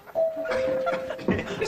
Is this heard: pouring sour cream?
no